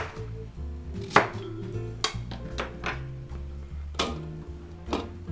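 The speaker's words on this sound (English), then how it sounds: "we cut our onions so they fit our food processor" Onions being cut with a knife on a board to fit a food processor for Bolognese spaghetti, a series of distinct close chops and taps in an uneven rhythm, with no talk.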